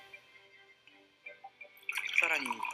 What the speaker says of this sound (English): You can even tell 1, 2, 3, the number of ice cubes in the glass.